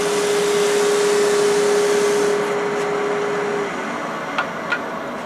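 A Hope Woodturning rotary Pro Sander runs with a loud, steady whirring drone and a clear tone that fades partway through as it spins down, followed by a couple of light taps.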